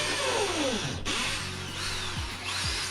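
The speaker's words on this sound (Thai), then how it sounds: "แล้วก็ใช้สว่านเจาะปูนครับ" A masonry drill bores into a lightweight brick wall with a loud, steady whine, the motor pitch dipping and sliding as it bites and eases off the load, close and continuous, with no talk.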